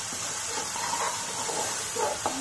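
Spices for chole chaat roasting in a pan over a medium gas flame, a steady soft sizzling hiss throughout with a faint tap near the end.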